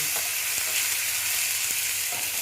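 Katla fish curry with Kashmiri red chilli powder stirred in, sizzling loudly in hot oil up close, with a few sharp utensil scrapes and taps against the pan over a continuous crackle.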